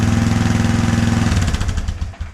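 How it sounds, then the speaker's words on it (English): Kawasaki 300 Lakota/Bayou ATV engine idling a little high, a loud, close, steady rapid chugging pulse that breaks up and sputters near the end, with no talking. "Looks like it's idling a little high."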